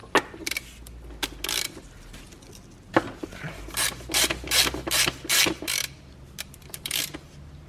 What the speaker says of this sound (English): Let's loosen the oil filter housing.